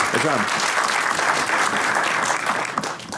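A studio audience at a Lithuanian comedy show bursts into loud, full applause welcoming a guest, the clapping dense and close, with a voice briefly heard at the start and the applause tapering slightly at the end.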